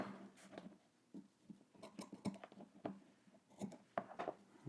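Scissors trim the corners of fabric for a Simplicity S9758 sewing project. Several quiet, close snips and light rubbing come in irregular bursts.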